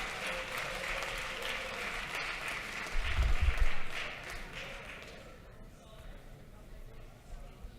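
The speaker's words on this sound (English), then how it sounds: "Give them another round of applause." Applause in the chamber of a state House for visiting third graders, a room-filling clatter of clapping that swells and then fades over several seconds, with no talking over it.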